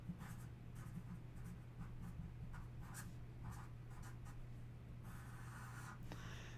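Pen scratching across paper in short strokes and pauses, close and fairly quiet over a steady low hum.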